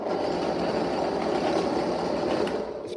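A workshop drill press runs steadily in a small home machine shop, a loud continuous motor whine and rattle close to the listener, easing slightly at the very end.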